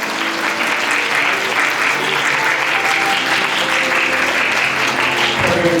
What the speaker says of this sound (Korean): 그렇다면 슈퍼의 박수가 필요할 것 같습니다.